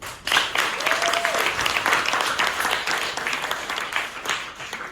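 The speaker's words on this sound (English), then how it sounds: "clap your hands if you're a product of the public school system" An audience at a story slam in Oakland breaks into applause, a burst that starts sharply and holds as a busy wash of hand claps, with a few scattered louder claps and a brief voice beneath.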